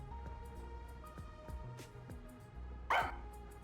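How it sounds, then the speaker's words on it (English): Sugar, a dog in the video game Master Detective Archives: Rain Code, barks in short, sharp bursts over quiet game ambience, with a louder bark near the end; no one speaks. "So I looked around and noticed Sugar barking at this room"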